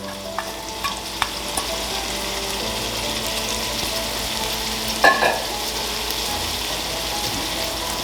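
Chopped onion and red pepper flakes fry in a pan with garlic, a steady broadband sizzle throughout, with a few sharp clicks early on and a brief scrape of stirring around the middle.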